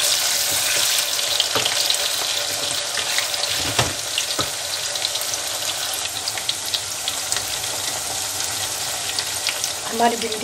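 Okra (bhindi) fries steadily in a pan, giving a continuous bright sizzle with a few clinks and scrapes, heard close up and without talk.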